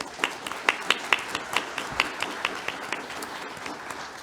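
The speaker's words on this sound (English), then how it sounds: "How about a round of applause for our panel?" A live audience at a 2016 lieutenant governor debate applauds its panel, with a dense patter of many hands clapping at moderate volume that holds steady throughout.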